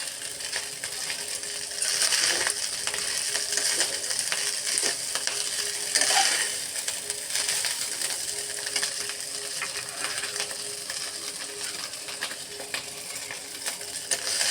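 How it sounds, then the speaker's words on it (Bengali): Fried rice being stirred and turned in a pan, a steady scraping, rattling stir with a soft sizzle running continuously throughout, close and moderately loud with no voices. "এইভাবে একটু করে দিয়ে দিয়ে নেড়ে নিই"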